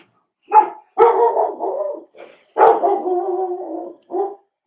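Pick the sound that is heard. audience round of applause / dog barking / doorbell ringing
dog barking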